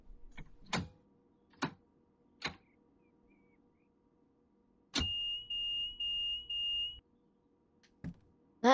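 Bakerloo Line train doors opening in Train Sim World 4: a few sharp clunks, then a steady two-tone door chime lasting about two seconds over a low cab hum, followed by another thump.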